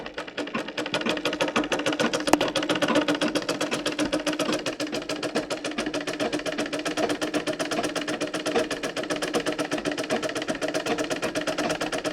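A sewing machine runs steadily, its needle clattering in a fast, even rhythm, close and alone, with no voices.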